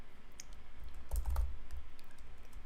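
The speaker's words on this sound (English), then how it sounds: "I'm just typing it up for you." Computer keyboard typing, a rapid patter of light keystrokes with a heavier cluster of key presses in the middle, close and clear with no voice.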